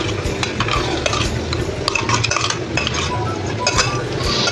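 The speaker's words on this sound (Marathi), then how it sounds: "आता तेल तापले आपलं छान आता ही चटणी टाकून देते मी" Fresh coconut and peanut chutney tipped into hot oil in a pan and stirred, with steady scraping and clinking of a spoon against the metal over a constant low sizzle, loud and close throughout.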